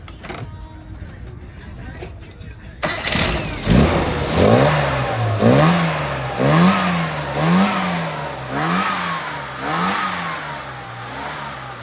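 A classic car engine fitted with carburettors and a wideband sensor starts up partway through, then revs repeatedly in rising and falling sweeps at close range, with people talking at times.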